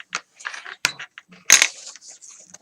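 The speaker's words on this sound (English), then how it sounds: "You're going to fold it over and crease it." Paper being folded and creased for a handmade mini album, with short crisp rustles and sharp pressing scrapes, the loudest crease about halfway through, close and quiet with no talk.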